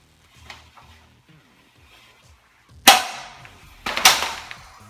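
A Little Giant 22 ft Revolution ladder is extended using its palm button, giving two sharp metallic clacks about a second apart after some quieter handling knocks, close and with no talk.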